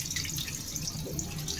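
Water is poured off freshly washed rice in a kitchen, making a brief steady splashing, trickling stream close by, alone with no voices.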